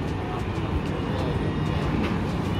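A small passenger train on a line toward Portsmouth gives a loud, steady rumble with a broad engine-like drone, continuous for the whole stretch with no voices.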